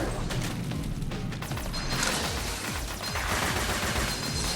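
In Mega Man 11, the Speed Gear activates with fast mechanical ratcheting and whirring clicks that build into a dense, rapid rattle, loud and continuous with no voices.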